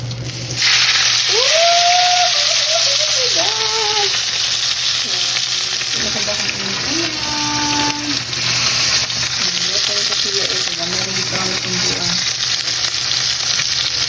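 Fish fries in hot oil with a loud, constant sizzle and popping splatters, while squeaky utensil scrapes and faint background sounds come and go over the long stretch.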